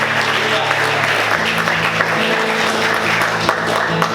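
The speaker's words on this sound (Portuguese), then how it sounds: "Vamos aplaudir Jesus." A church congregation applauds together, with a dense wash of clapping held steady for a few seconds while a voice speaks over it.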